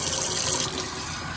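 Steady rushing of hot water pouring into a pressure canner, a continuous broadband splash with no talking.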